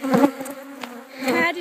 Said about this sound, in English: huge, huge swarms of bees just covered us from our mean hive